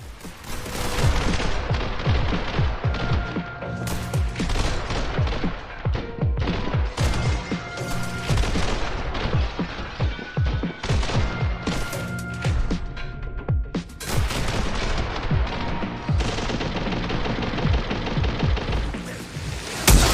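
Gunfire in a video game shooter with slow-motion action, dense bursts of shots, automatic fire and heavy impacts layered with booming effects and music, loud and nearly continuous throughout.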